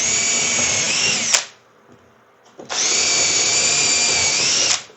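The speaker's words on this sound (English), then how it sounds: "I'm going to drill it through." Power drill whines through a cabinet door in two loud bursts, cutting off briefly in between, with no speech.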